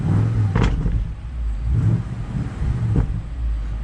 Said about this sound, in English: which means if we rev this car